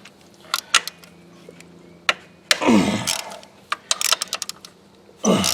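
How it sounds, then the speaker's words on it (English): A ratchet breaks loose the 13 mm alternator bolts on a 2002 Ford F250 Power Stroke diesel: scattered sharp metallic clicks and knocks, then rapid ratcheting bursts, fairly close and moderately loud. "I'm going to break these bolts loose, take the alternator loose"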